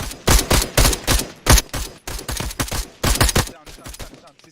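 Video game gunfire: rapid bursts of loud automatic shots in repeated clusters with short gaps, close and dominant.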